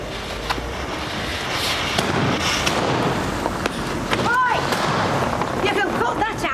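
Fireworks go off in a residential street, a run of sharp cracks and pops with whistling bursts, loud and close, over a busy noisy background.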